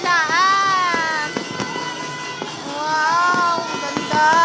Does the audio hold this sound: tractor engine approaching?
no